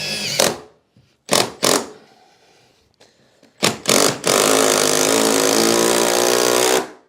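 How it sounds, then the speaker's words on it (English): A power driver sinks 4-inch screws through a thermal brake laid on a packer during a garden room build. It comes as several short, loud whirring bursts, then one long sustained drive near the end. "I'm going to screw through the thermal brake on top of the packer"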